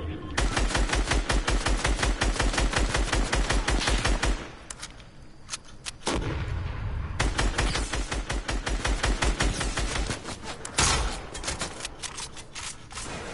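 Gunfire in the Call of Duty Modern Warfare video game, with dense, rapid shots rattling in loud sustained bursts, a brief lull around the middle, then heavy firing again.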